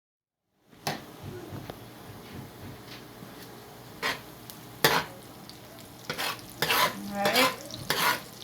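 Onions browned in a generous amount of bacon grease sizzle softly in a pan while a utensil scrapes and stirs in irregular bursts, with occasional knocks against the pan and one brief spoken word.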